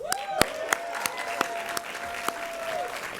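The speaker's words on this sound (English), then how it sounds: "big round of applause for the Frida Cinema." Audience applause at an indie film awards show breaks out in sparse, separate claps that gather into light applause, with a sustained tone running beneath and voices heard faintly in the room.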